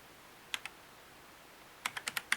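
Keys clicking on an AULA F2088 mechanical gaming keyboard: two quick presses, a pause, then a rapid run of about seven sharp clicks, faint and close with no talking.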